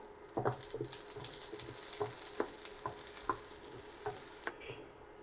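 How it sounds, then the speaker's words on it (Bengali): Native garlic frying in a pan next to slowly frying buffalo meat gives a steady, close sizzling hiss, broken by soft clicks and taps as the pan is stirred, with no talking. "একটা দেশি রসুন নিয়ে নিয়েছি সেটাকে একটু ভেজে নেব"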